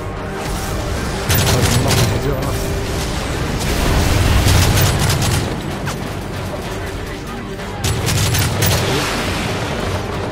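Gunfire and explosions from the video game Modern Warfare, dense bursts of shooting with repeated heavy low booms, loud and continuous, with players talking over the action.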